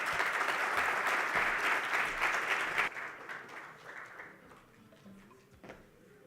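Conference audience at a national green hydrogen event in Namibia breaks into full applause, a dense wash of many clapping hands that holds strongly for a few seconds and then fades to scattered claps.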